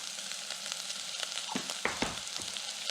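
Onions frying in a pot for Afghan shorwa soup, with kosher salt and black pepper: a quiet, continuous sizzle broken by a few soft stirring clinks, close and alone.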